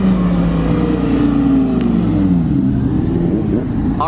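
A Lamborghini engine revs and accelerates up close, a loud, rising mechanical growl with strong harmonic tones that climb and fall over a few seconds.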